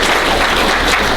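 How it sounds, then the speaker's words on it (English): An audience at a fundraiser luncheon breaks into loud, continuous applause, a dense wash of many hands clapping up close for a brief moment. "Let's give her a round of applause."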